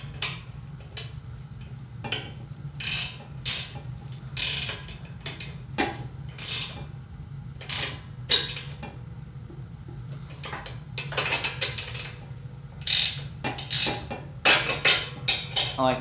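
A 17mm ratchet wrench tightening the steering fork bearings on a mini bike clicks in short bursts of quick pawl ratcheting, separated by pauses, close and fairly loud.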